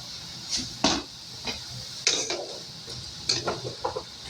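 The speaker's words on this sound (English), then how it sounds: "we're going to go ahead and dump in our veggies" Vegetables are dumped into a pot of hamburger soup, bringing a series of scraping, clattering stirs and knocks against the pot over a faint sizzle, close and without talk.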